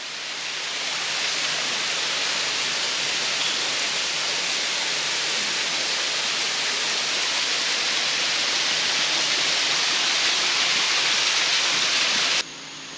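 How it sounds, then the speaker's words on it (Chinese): Jiadong Waterfall, a cascade of at least three tiers, pours in a constant, loud broadband roar heard up close, swelling slightly at the start and dropping briefly at the very end. "这嘉东瀑布在这边至少有3层吧。"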